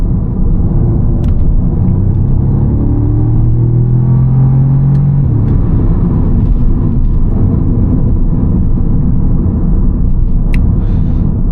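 A 2014 Audi S3 8V with a 290 PS engine and S-Tronic gearbox drives along a private circuit, giving a loud, steady engine rumble and road noise. Revs sweep up once early on, then settle into a continuous drone with no talking.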